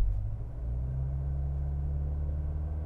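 A 2021 Mercedes-Benz GLB 250 4Matic holds a steady, deep engine rumble while brake torquing, a loud and constant low drone heard from inside the car with no talk.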